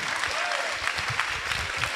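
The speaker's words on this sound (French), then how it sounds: "Une bonne main d'applaudissements" An audience at a talk on universal design for learning applauds: steady, dense clapping from a crowd, fairly distant and even throughout, with no pause.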